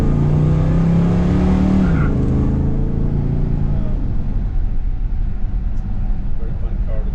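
A 1970 Pontiac GTO with an automatic transmission, rated around 330 to 370 horsepower with ram air, drives and accelerates on a test drive, a loud, steady engine roar with a rising note early, heard from close by alongside talking.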